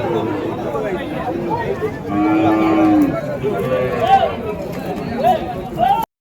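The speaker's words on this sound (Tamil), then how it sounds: "இதெல்லாம் சென மாடுங்க." Cattle low repeatedly at the Vaniyambadi cattle market, several rising moos sounding over busy crowd chatter and people talking nearby.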